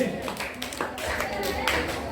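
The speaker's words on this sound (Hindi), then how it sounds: "एक बार जोरदार तालियों से राजनंदिनी का स्वागत।" An audience at a school Lal Bahadur Shastri Jayanti function claps briefly to welcome a student, with a voice talking over the short burst of hands.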